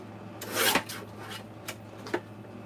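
Paper being trimmed for a small craft bag, giving a few close, dry rasping strokes with one longer scrape followed by short quick cuts, heard alone in a quiet room.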